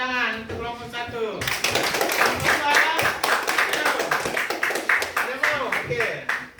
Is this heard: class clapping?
yes